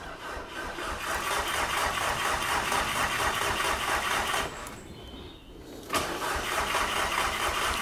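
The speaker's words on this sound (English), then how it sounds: "Okay, coil pack's unplugged and we're gonna give it some juice because the car's dead." An Audi S3 engine with a dead battery and unplugged coil pack cranks with a rapid, rhythmic churning, pauses briefly, then cranks again loudly and steadily; no one speaks.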